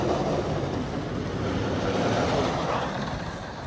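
A test train runs slowly on the El Toro wooden roller coaster on a cold day, giving a broad, steady rumbling roar that swells slightly and then eases off, heard from a distance with no talk.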